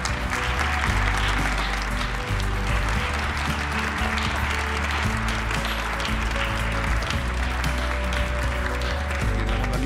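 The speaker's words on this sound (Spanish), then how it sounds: "Un fuerte aplauso," Loud, sustained applause from a large crowd, steady and dense throughout without a break.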